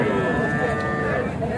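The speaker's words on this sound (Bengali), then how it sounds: "অনেকগুলি ষাঁড় বাচ্চা এখানে রয়েছে।" Several young bull calves gathered together, with one calf giving a sustained, close, fairly loud moo that carries through most of the moment over low background noise.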